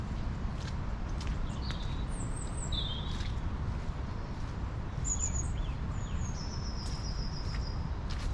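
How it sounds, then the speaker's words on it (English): Several birds sing and chirp in short, scattered phrases, some near and some farther off, over a steady outdoor rush in woodland at Reddish Vale, Stockport. "You can hear the birds a lot more."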